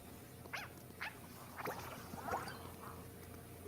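A dog in the Fortnite video game gives a few short, soft, gargly barks and whines spaced about half a second apart, faint against a steady low game background.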